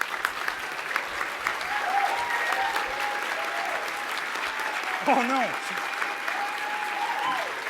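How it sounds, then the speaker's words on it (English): Audience applause at a talk before questions, a steady broadband wash of clapping throughout, with whistles and brief voices mixed in. "You can clap too if you want."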